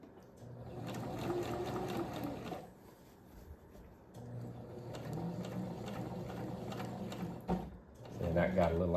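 A sewing machine stitches fabric while a shirt is resized, a steady whirring run in several stretches with pauses between, close by, with a voice talking over it.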